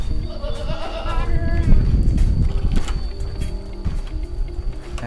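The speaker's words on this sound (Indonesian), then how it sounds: "Kambing sehat, teman-teman." Goats at a goat market bleat in short wavering cries over crowd murmur and livestock shuffling, moderately close, with voices talking in the background.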